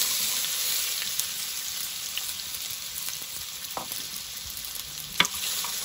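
Potatoes frying in hot oil in a cooking pot give a steady, bright sizzle throughout, with a few faint clinks of stirring.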